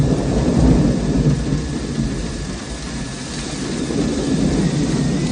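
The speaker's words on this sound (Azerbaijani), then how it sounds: "Ehtiyatlı olun, leysan yağır." A heavy downpour roars with rumbling thunder, a loud, continuous wash of rain under deep low rolling swells that rise and fall, with no voices.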